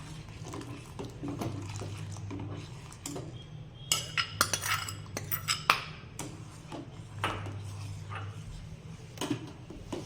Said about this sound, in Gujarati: તો ધીમે ધીમે આપણે આ બનાવેલું મિશ્રણ ઉમેરી મિક્સ કરતા જશું.